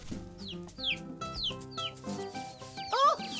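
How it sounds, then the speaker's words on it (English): A cartoon mother hen clucks in a string of short, bright calls over a busy musical backing, with a sharper squawk near the end. "What are you doing, Mama Hen?"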